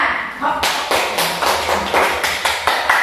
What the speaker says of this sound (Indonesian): Beri aplaus semua.